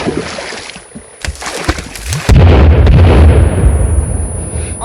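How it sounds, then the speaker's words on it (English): A grenade blows up in the video game Sons of the Forest, a heavy, loud explosion that follows a few sharp bursts and leaves a sustained low rumble, with no talking. "Throwing a grenade."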